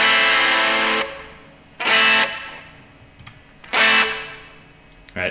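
A heavily distorted electric guitar strikes a few loud chords, each separated by short pauses where the sound quickly dies away.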